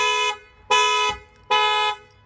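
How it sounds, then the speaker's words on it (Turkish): A SEAT Leon Mk4 car alarm horn sounds in three long, loud blasts with short gaps between them, steady and close by. "Araç kornaya dörtlerle uyarı verdi."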